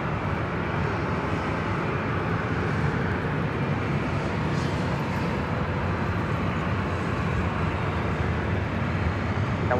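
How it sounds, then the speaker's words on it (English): A Southwest Airlines Boeing 737-800 arriving from SFO and landing at LAX gives off a continuous, loud broadband engine roar that holds steady throughout, with no speech. "Southwest Airlines flight 3682 coming from SFO, and a 737-800 is our next arrival."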